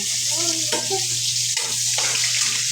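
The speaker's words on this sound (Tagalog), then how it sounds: "Ito na siyang gisaw ang lamas." Eggplant adobo ingredients sautéing in a pan, a steady broad sizzle and hiss that runs the whole time, with a low steady hum underneath and a few brief voiced sounds.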